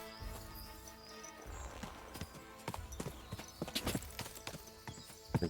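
Horse hooves clip-clop in a steady, uneven rhythm from the video game Kingdom Come: Deliverance II, sharp hoof strikes over a busy background of game sounds.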